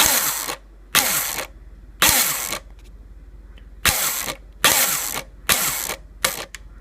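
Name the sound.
ICS M16 DMR airsoft gun firing, gearbox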